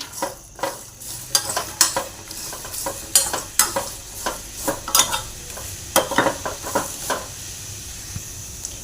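A bowlful of unpeeled garlic cloves dry-roasting in a pan for coconut chutney, stirred steadily: a low sizzle under frequent sharp scrapes and knocks of the spoon against the pan, close and rhythmic, with no talking.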